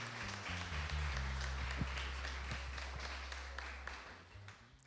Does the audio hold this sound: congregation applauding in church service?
yes